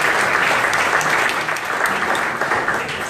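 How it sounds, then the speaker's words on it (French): Steady applause from a conference audience at a business startup day in Bordeaux, a dense wash of many hands clapping that holds evenly for about three seconds with no voices over it. "On peut applaudir aussi Thierry pour tous ces conseils."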